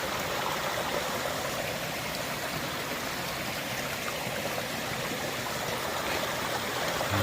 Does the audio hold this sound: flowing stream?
yes